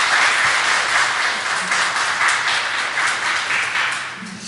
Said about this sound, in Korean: 우리 앙상블에게 다시 한번 큰 격려의 박수